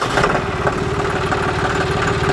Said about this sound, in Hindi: ट्रैक्टर को पहले स्टार्ट करके